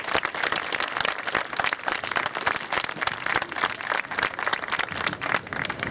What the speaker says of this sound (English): Let's give all these folks another round of applause.